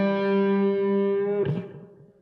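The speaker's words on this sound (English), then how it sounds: "then he kicks in the distortion, the glorious distortion" A sustained, harmonically rich distorted electric guitar note from the intro rings out for over a second, then cuts off abruptly with a brief scrape of noise.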